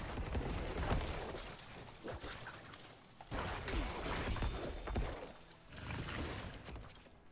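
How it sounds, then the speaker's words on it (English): Minions burst in bloody explosions in the video game Diablo 4, making several wet, crunching blasts with rattling debris that rise and fade in waves amid other gameplay effects. "It's not that they explode, it's that they cause a blood explosion."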